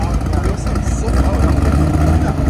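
A cammed Chevy Corvette Z06 with a 7.0L V8, headers and a Corsa Sport exhaust rumbles with a deep, choppy idle close by, while people talk over it.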